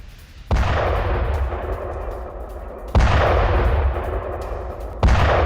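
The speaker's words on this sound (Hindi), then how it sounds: "हिजबुल्लाह के ठिकाने पर बमबारी की, हमले में हिजबुल्लाह के कई लड़ाके मारे गए" Bombardment of Hezbollah positions by the IDF in south Lebanon: three heavy booming blasts at about two-second intervals, each a sharp crack followed by a long rumbling decay, loud and alone.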